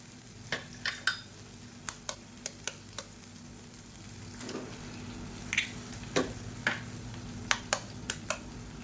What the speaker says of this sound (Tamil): இப்போ இது வந்து நல்லா இப்படி ஓரமாக ஒதுக்கி விட்டுட்டு 2 முட்டையை உடச்சி ஊற்றிக்கலாம்.